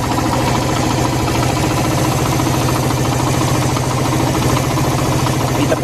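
A Suzuki engine fed hydrogen through a bubbler and carburetor runs at a steady idle, a loud, close, rhythmic knocking putter that holds an even pace throughout.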